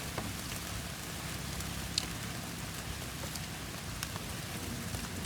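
Steady rain falls on a surface, a dense continuous patter with scattered distinct drops, fairly faint and with no voices.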